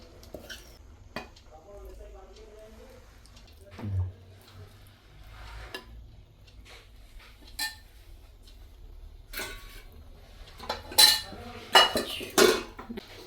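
A spoon scrapes and clinks against a pot while chicken curry is spread over biryani rice, with scattered soft scrapes, a few louder metallic clinks near the end, and quiet stretches between.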